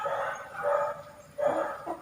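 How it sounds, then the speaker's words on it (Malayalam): Dogs bark at a rural home during outdoor easel building, with a few yelping barks coming in two bursts at moderate distance. "ഇവിടെ ഭയങ്കര പട്ടികളുടെ കുര നിങ്ങൾക്ക് കേൾക്കാമോ എന്ന് എനിക്കറിയില്ല"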